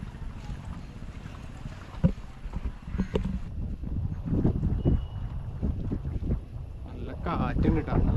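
Wind gusts across an iron footbridge over a river, a span that bikes and two-wheelers also cross, giving a steady low buffeting rumble with occasional knocks and faint voices in the background.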